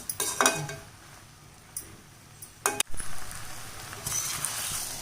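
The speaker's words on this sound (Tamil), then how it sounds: "இப்போ புளி சேர்த்து கிண்டி விட்ருக்கோம்" A metal spoon scrapes and clinks against a pan while onions and tamarind are stirred for onion thokku, with sharp scattered knocks over a soft, faint sizzle and no voices.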